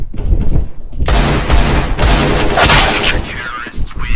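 Rapid bursts of gunfire crackle and boom loudly in a shooting video game, dense overlapping shots with people talking over the action.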